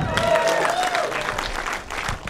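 A crowd claps and cheers in a burst of steady applause, fairly close and continuous for a couple of seconds.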